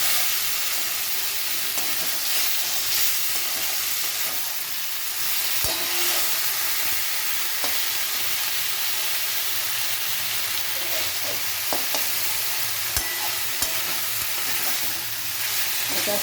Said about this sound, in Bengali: এবারে এই পটলগুলোকে দিয়ে দিচ্ছি। পটলগুলো মশলাটা মাখিয়ে নিয়ে